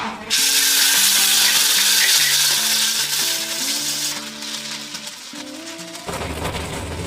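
Ginger, green chilli and tomato paste hits hot oil with a loud, steady broadband sizzle that fades slightly over several seconds, with faint tonal music running underneath and no talking.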